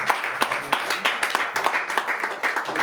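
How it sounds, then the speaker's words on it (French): A church congregation claps together in praise of the Lord, a steady run of dense, fairly close hand claps with a few voices mixed in. "On acclame encore le Seigneur"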